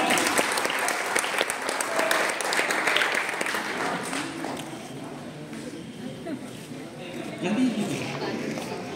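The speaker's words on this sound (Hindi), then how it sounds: "जोरदार तालियां भाई" Loud applause from an audience at a religious jalsa gathering honouring young children's performance, steady dense clapping throughout with a slight dip midway, voices mixed in beneath.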